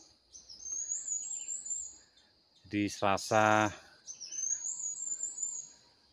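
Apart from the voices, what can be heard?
birdsong in the forest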